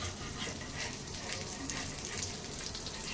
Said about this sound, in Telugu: నెయ్యి వేసేసుకుని బాగా అలా స్ప్రెడ్ చేసేయండి.